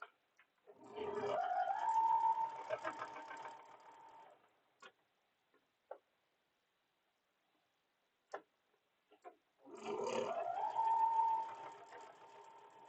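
A sewing machine stitches quilt block seams in two steady runs of rapid mechanical whirring, separated by quiet pauses with a few isolated clicks and handling taps.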